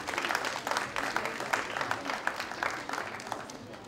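Dense applause from an evening gathering rises for evangelist Francis before a shared meal: a steady wash of many hands clapping throughout, fairly close and even in loudness.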